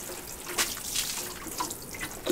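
Radish seeds in a backyard spring container garden being watered well, a light splashing and trickling of water onto soil with a few brief louder spurts, close and steady, no voices.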